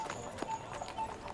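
Horses' hooves clip-clop on hard ground at an old market, several quick irregular hoof strikes against a busy background with faint voices.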